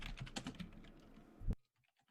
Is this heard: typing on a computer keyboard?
yes